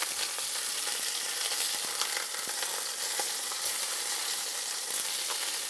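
Pieces of birria meat sear in a hot pan, a dense, steady sizzle and crackle with scattered sharp pops, close and continuous throughout with no talking.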